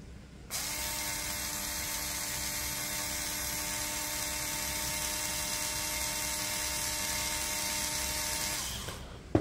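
Ronix 8591 cordless screwdriver spinning freely at steady speed for a rev test, a continuous mechanical whine with a constant tone that starts abruptly, holds for about nine seconds and then winds down.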